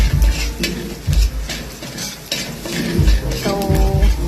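Plenty of garlic browning in a pan for black pepper crab, sizzling steadily while a utensil stirs and scrapes in repeated bursts, close and loud.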